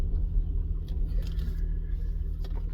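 A modified Acura CL Type S with tube headers and a Rebel catback idles rough, a low steady rumble with faint uneven clatter, heard close from inside the car.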